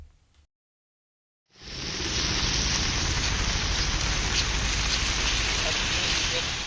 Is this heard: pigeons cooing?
no